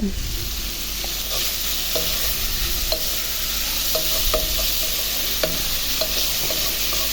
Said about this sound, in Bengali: দেখুন ডাল দিয়ে দিলাম এখন ডাল দিয়ে দিব